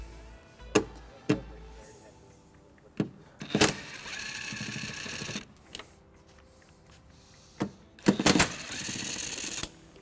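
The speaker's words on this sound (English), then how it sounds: "We're going to remove these two bolts using a 10mm socket." A 10mm socket wrench removes the tail light bolts on a 2017 Dodge Grand Caravan, giving quiet ratcheting clicks and sharp metallic taps, with two longer bursts of ratcheting amid low background noise.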